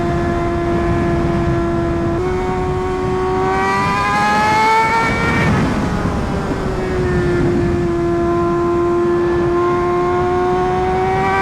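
A Brutale motorcycle's titanium quad exhaust drones loudly and rises through a rev before settling back into a steady, close, throaty idle.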